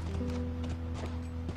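A horse gallops in the video game The Last of Us, soft rhythmic hoof thuds over a low steady game soundscape, short and fairly quiet.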